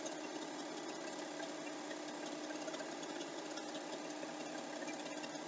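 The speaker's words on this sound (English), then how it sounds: "The sound of the sewing machine going actually helps me think" A sewing machine runs steadily while quilting a meander pattern, giving a continuous even whirring hum with a fast mechanical rattle that stays constant, close by and uninterrupted, with no talking.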